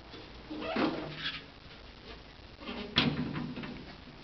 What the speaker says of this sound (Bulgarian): Отварям капака.